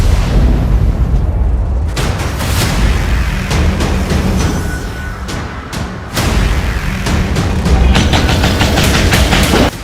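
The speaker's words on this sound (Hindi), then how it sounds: "इजराइल की तोपें गरजने लगी हैं।" Israeli artillery guns fire at the Gaza border, heard as repeated sharp blasts and cracks over a dense, continuous rumble that stays loud throughout.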